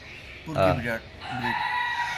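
A single Black Sultan rooster, a Turkish breed, crows close and fairly loud, rising and then trailing off in a drawn-out call.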